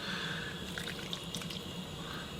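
Water trickles and drips steadily into a dumpling mixture for chicken paprikash, a soft continuous pour heard alone at close range.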